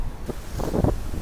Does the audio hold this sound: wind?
yes